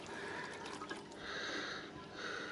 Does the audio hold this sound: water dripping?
yes